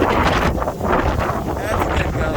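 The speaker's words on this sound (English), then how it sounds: "That's a good gust." A strong gust of wind during Hurricane Nicole buffets the microphone, producing a loud, steady roar of rushing air that swells and dips slightly across a couple of seconds.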